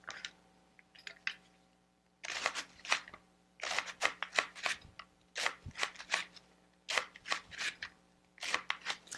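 A knife cuts through cabbage on a board, giving a brief pause and then a run of crisp, close, rhythmic crunching chops that repeat steadily with short gaps, with no voice.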